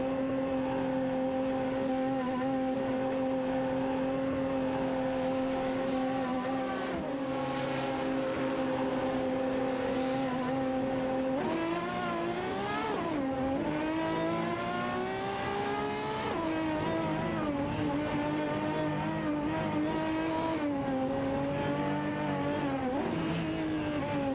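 Several race car engines in a video game race drone together continuously, with whining tones that rise and fall through gear shifts as the cars accelerate, all at steady loudness with no talking.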